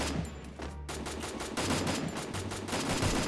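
Rapid automatic gunfire from a video game, a fast run of sharp evenly spaced shots crackling in a burst, briefly pausing, then continuing steadily.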